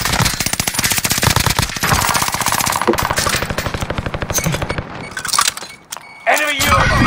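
Rapid automatic gunfire rattles almost nonstop through a first-person shooter video game, with loud bursts layered over sharp individual shots, ending in a brief lull before more firing. Voices talk over the shooting.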